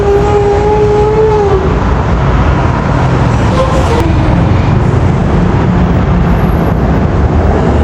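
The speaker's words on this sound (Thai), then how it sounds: "นนี้เราดูบรรยากาศรถไฟวิ่งข้างบน" Loud, steady rumble of an elevated train passing close overhead on Rama IV Road, a broad roar lasting throughout with a brief whistle-like tone near the start.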